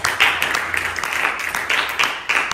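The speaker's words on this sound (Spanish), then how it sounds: "Alguien dele un aplauso al Señor ahí." A church congregation breaks into scattered, uneven clapping, many hands at a moderate distance, with voices murmuring faintly beneath the applause.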